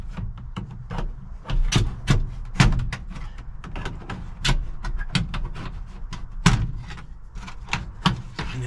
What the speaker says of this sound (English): We're just going to work our way around and start popping these clips out